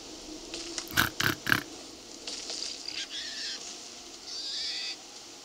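Three quick, bright squealing grunts in a row, a pig sound from the game Monster Hunter Stories, followed by softer electronic chimes and a steady synthetic tone.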